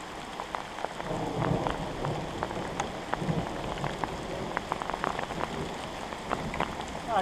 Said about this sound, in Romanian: Vezi, mai în vale plouă.